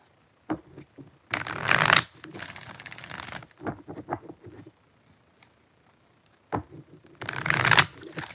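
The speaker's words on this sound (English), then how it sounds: "5 shuffles for Becca." Tarot cards are shuffled in several quick riffling bursts, close up, separated by softer tapping and handling noises.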